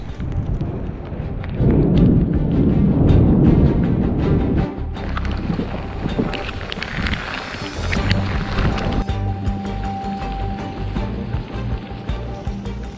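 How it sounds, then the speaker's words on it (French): Heavy rain pours down in the Arolla valley in the Alps, a steady loud roar of downpour that shifts in tone partway through, with no talking. "autant vous dire qu'il pleut des trombes"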